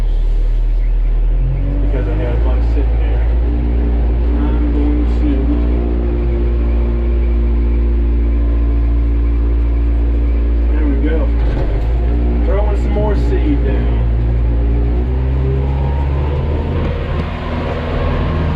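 Tractor running its PTO to drive a grass seed spreader loaded with several hundred pounds of seed, with engine RPMs eased down; a steady, loud low engine rumble holds throughout, with a person talking over it.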